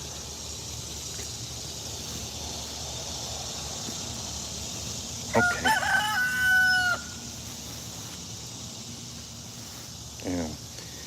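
A young rooster crows once in a backyard garden with chickens, a single mid-distance call under steady insect hum, followed by a brief second vocalization; a person speaks a word softly.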